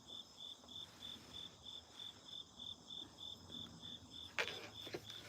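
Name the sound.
crickets chirping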